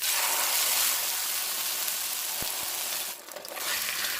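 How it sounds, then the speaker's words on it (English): Steady, close sizzle of a sauce-dipped corn tortilla frying in hot oil for vegan enchiladas, a dense continuous crackle with a couple of brief clicks and a short dip near the end, no talking. "I'm gonna fry all of the tortillas"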